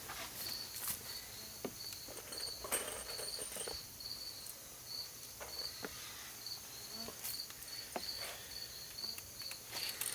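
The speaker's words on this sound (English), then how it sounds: "There's those bugs again, eating me alive" Bugs drone and chirp in a steady, faint insect hum outdoors in northern Canada, with high repeating cricket-like trills and occasional light taps and rustles nearby.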